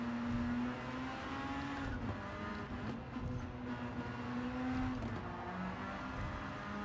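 A Mazda RX-7 FD3S race car in Gran Turismo 7 drifts around the Tokyo Expressway circuit, its rotary engine holding a steady high drone with tire noise underneath, loud and close with no other sounds.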